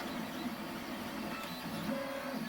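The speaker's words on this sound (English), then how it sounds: "2 printers simultaneously in the same room" Two 3D printers run at once in one room, giving a steady, faint mechanical hum and whirr of stepper motors with shifting tonal whines, continuous and without talk.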